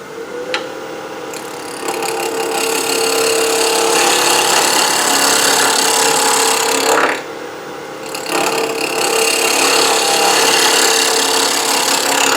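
A straight line is turned on a wood lathe in a multi-axis turning session, with a loud, continuous scraping whir of the tool cutting spinning wood that eases briefly around seven seconds before resuming at full strength.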